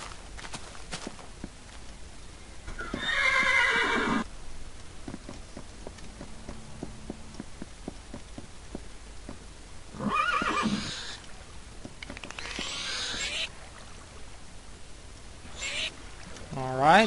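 A Minecraft horse from the Mo' Creatures mod lets out several loud neighs between stretches of quiet hoof clip-clops and light footstep sounds, with game ambience underneath.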